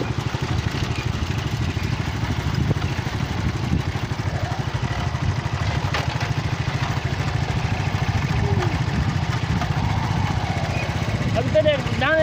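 A motorcycle engine runs steadily at a rural roadside, a continuous chugging idle with clatter heard close throughout, with people talking over it.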